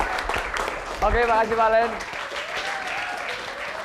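An audience applauds in a TV studio show after a contestant's introduction, with steady clapping running underneath a host talking.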